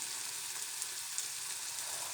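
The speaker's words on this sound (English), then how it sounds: "While that is frying" Garlic and red chilies sizzle steadily in a pan of hot oil, a soft, even crackle held close and constant without pause or voices.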